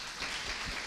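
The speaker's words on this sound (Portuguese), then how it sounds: "Vamos aplaudir a Tamara, gente?" A church congregation at a Sunday service claps for Tamara, a short burst of steady, dense applause filling the room.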